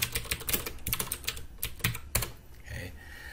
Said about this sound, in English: when I type words in